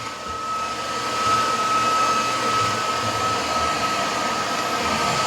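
A Roborock F25 Ace wet/dry floor vacuum runs in max mode, a loud, steady close whoosh of suction with a thin constant whine, no talking over it.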